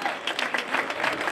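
A brief burst of audience clapping at an outdoor Notte Bianca evening event in Lercara Friddi, a close, uneven patter of hands with a voice faintly mixed in.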